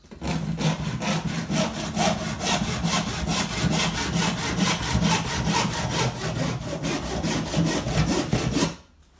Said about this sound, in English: measure your 5 inches and roughly cut that on that mark there.